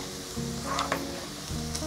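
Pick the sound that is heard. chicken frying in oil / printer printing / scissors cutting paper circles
chicken frying in oil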